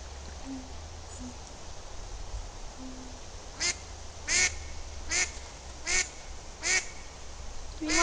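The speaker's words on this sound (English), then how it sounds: "Don't you know, Duck, we're not supposed to feed the animals in Yosemite" Six short duck quacks ring out in the second half, spaced about half a second to a second apart, beside the Merced River in Yosemite, over a quiet outdoor background with low hum.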